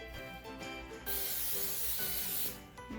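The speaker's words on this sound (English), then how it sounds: "We like to spray the paper towel first and then just kind of wipe it in there." Cooking spray hisses from a can onto a paper towel in a home kitchen, one steady burst of about a second and a half after light handling noise, close and clear.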